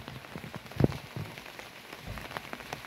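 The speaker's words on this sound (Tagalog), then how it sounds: "Medyo lagi nang umuulan." Rain patters steadily on a vegetable garden of bottle gourd plants, with scattered soft drops and one brief louder splash early on, no voices.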